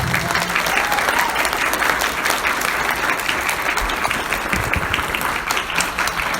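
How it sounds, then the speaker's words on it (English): An audience at a 2019 Long Beach Comic Con panel on Latina superheroes claps and cheers. The applause is dense, sustained and loud, filling the room without a break. "big round of applause for this incredible panel."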